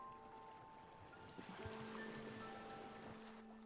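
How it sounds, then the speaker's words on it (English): Ocean waves on a dark beach from the otome game Virche Evermore: Error Salvation, a soft steady surf wash under sustained, quiet musical tones, with no speech. "The sound of waves from unknown lands beyond echoed in my ears."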